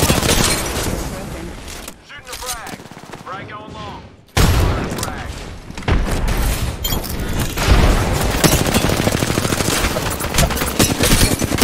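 Heavy video-game gunfire rattles in rapid bursts, broken by a sudden loud frag grenade boom partway through, then sustained firing and blasts continue close and loud as a voice talks over the action.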